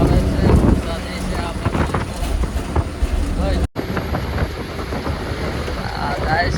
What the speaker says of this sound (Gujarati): પવન બહુ આવે છે, વરસાદ છે